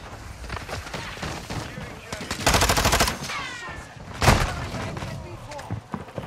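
Several loud, sharp blasts from a shotgun in Modern Warfare II, scattered among game noise, with one heavy burst in the middle and another close shot later, under a voice talking at times.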